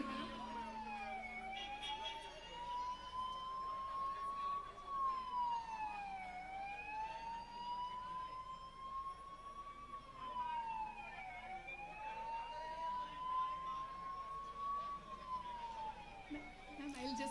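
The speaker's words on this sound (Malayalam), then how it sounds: "another ambulance is coming" An ambulance siren wails past a roadside political rally at Mampad, Wayanad, a steady rising and falling tone repeating about every five seconds, moderately distant, with a speaker talking over it.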